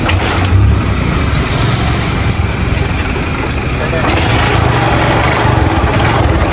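A motorcycle engine runs steadily at a low, even idle, with the clutch being let out slowly in gear, while people talk close by over the motor.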